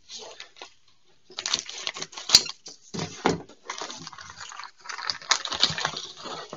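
Cutting open a sealed plastic pack of replacement hydraulic roll bar cylinders for a Mercedes SL500 R230, with crinkly plastic rustling and sharp snips in bursts, close by.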